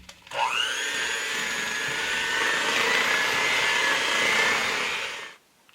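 An electric mixer whirs steadily for about five seconds, mixing milk into cake batter for a Boston cream pie, then cuts off abruptly.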